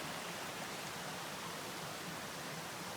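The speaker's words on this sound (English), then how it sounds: "Listen to that flowing water all night." Creek water rushes steadily around a trail shelter on the Pinhoti Trail, a soft, constant, even hiss of flowing water with no breaks or voices.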